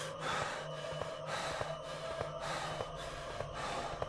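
The boy character in the video game Inside breathing heavily, a quiet and regular run of sharp, snort-like breaths, roughly one every half second, over a low game ambience with a faint steady hum.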